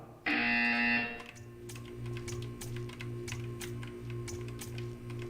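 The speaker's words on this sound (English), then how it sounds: "You will hear a buzzer." A loud electronic buzzer in the video game Portal 2 blares for about a second, then a steady low hum with scattered clicking and tapping continues.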